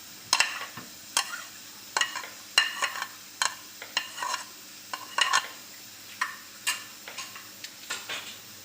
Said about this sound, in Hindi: जैसे ही ऑयल गर्म होता है मैं अदरक डाल दूँगी।